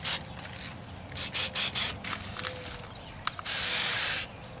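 A garden sprayer hisses as neem oil goes onto plants, a series of short close bursts followed by one longer sustained spray, with rubbing and handling noises between them.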